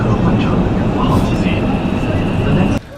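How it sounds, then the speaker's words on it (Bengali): A loud, steady rumble of a metro train arriving at a station in China fills the clip, with a high whine above, then cuts off abruptly near the end. "মেট্রো রেল চলে আসছে"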